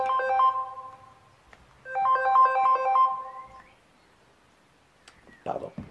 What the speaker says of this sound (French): quand on oublie de mettre en arrêt son téléphone, voilà ce qui se passe